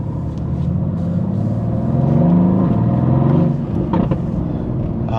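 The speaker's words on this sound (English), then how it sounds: "Those backfires sound so good in this car." Mercedes-AMG GT engine revving hard in rush-hour traffic in Salt Lake City, a loud, close, rising exhaust roar with a few sharp crackles toward the end.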